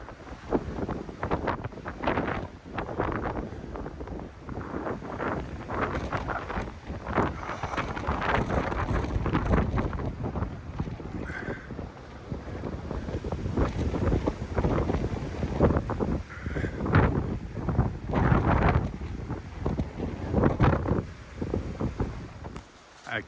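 Strong wind gusts buffeting an exposed gap on a hiking trail, a continuous rough roar with rumbling microphone blasts that rise and fall throughout.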